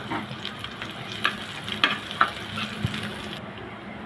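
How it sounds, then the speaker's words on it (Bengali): Garlic cloves and chopped onion fry in a pan with a continuous sizzle, punctuated by occasional scraping and stirring clicks close by. "এখন দিয়ে দেবো সামান্য কিছু পেঁয়াজ কুচি। একটু হালকা করে ভেজে নিব।"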